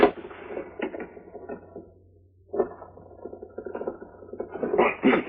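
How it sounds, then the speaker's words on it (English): Creaking, ratcheting metal-on-metal turning as a hollow gun butt with a steel frame is used as a wrench on a nut, close and moderate in two strained bursts separated by a short pause. "if I can get the steel frame over the nut, the gun will act as a wrench"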